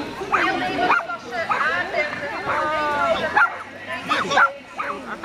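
A dog barks repeatedly in yips and bow-wows at close range, with excited whimpering between bursts, heard outdoors amid people talking and background chatter at a parcours event.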